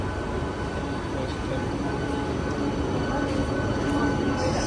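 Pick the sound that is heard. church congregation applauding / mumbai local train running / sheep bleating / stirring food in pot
mumbai local train running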